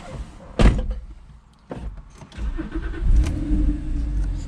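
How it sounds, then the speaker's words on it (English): A Porsche 911 Carrera 4S 997 Gen 2 with a switchable sports exhaust cranks and fires up close by, a sharp starter burst followed by the engine catching and settling into a steady low idle. "So just going to start it up"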